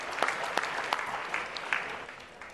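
Applause for an athlete at a sports awards ceremony, a moderately distant crowd clapping steadily with a few sharper claps, fading slightly toward the end, no talking.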